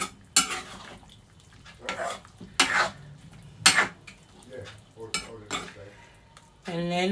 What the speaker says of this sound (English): Just stir that in a little bit.